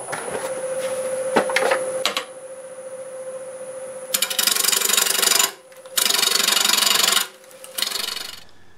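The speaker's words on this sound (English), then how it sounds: "I just sharpened the 5/8 bowl gouge, and I'm just going to start rounding it to get it into balance" 5/8 bowl gouge cutting black locust wood on a lathe at about 700 RPM, a harsh scraping rasp in several loud bursts with short pauses, over a steady machine whine.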